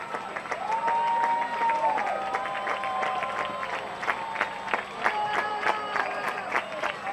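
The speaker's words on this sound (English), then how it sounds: "The fans cheering." Baseball crowd at a minor-league stadium game between Lancaster Barnstormers and Bridgeport Bluefish clapping and cheering, a steady wash of applause with scattered sharp claps and whistles throughout, fairly distant and unbroken.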